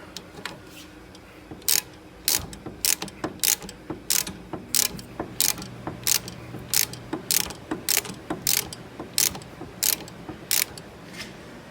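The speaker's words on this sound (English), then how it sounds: "Keep tightening down until that pulley meets the bolt." Ratchet clicks in quick bursts as a bolt is tightened on the pulley of a Dodge/Chrysler/Jeep 2.4L engine, close and crisp. The rhythmic strokes repeat steadily against a quiet garage background.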